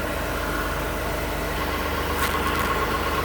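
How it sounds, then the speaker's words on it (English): A 2017 Toyota Sienna L wheelchair mobility van idling, a steady, smooth low engine hum heard up close and alone with no voices. "It idles smoothly."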